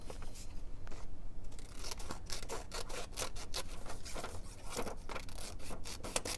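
Scissors snip out a printed picture for a knitting journal, a run of short crisp cuts with paper rustling close by, no talking.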